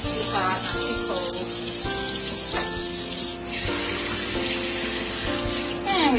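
Warm water pours and splashes over a Labrador puppy during a bath in a kitchen sink, a steady close gushing flow with brief dips, while music plays underneath.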